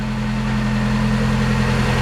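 A rebuilt Kia Picanto engine idles steadily close by, a low, even hum with a regular mechanical pulse and no voices.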